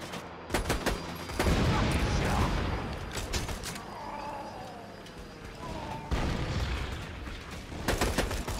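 Gunfire aimed at the player in the shooter game Borderlands 2: dense bursts of shots crackle through the scene, loud and close, with quieter stretches of game ambience and mechanical creaks between volleys.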